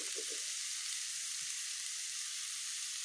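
Potatoes frying in a pan for aloo bhujia, a steady hiss of sizzling oil running throughout with a faint low stir or two near the start, close and even in level.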